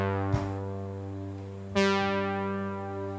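A Juno 108 synthesizer plays pad notes slightly out of tune with each other. One note sounds, then a second enters near the middle with a sharper attack and sustains, both ringing on together.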